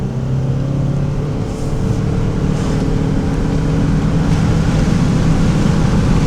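A Toyota RAV4 accelerating uphill at high altitude, its engine drone steady and loud with a rising hum, the broadband road and wind roar filling the cabin throughout.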